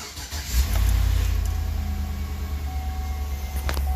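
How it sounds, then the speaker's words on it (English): A 2003 Chevy Suburban engine cranking and catching, settling quickly into a steady low idle that continues close by, with a few faint clicks and no talk. "You go ahead and start the vehicle."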